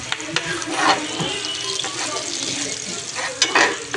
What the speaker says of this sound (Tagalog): magigisa na po tayo ng bawang at sibuyas